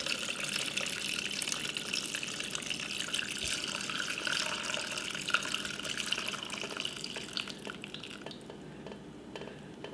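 Turkey juices poured off from a slow cooker, a steady liquid trickle and splash running nearly continuously at close range and easing slightly toward the end, with no talking.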